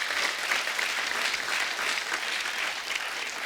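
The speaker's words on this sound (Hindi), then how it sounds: "उस फिल्म के लिए जोरदार तालियां हो जाए" Steady applause from a large TV studio audience, a dense wash of clapping that holds at an even level throughout.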